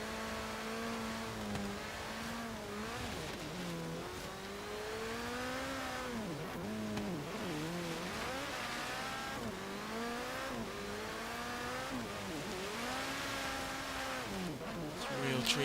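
A Lancia Group B rally car in Forza Horizon 3 revs hard and continuously, its engine note climbing and dropping through gear changes at close range, loud and steady with occasional tire squeal.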